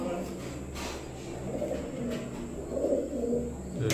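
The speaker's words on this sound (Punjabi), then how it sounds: "ਇਹ ਡਬਲ ਮੋਰ ਕਬੂਤਰ ਜਿਹੜੇ ਉੱਚੇ ਚਵੀਆਂ 'ਤੇ ਬੈਠਾ" Double mor pigeons perched on a high rooftop perch during a pigeon-flying tournament coo softly in low repeated calls, close by over steady outdoor background noise.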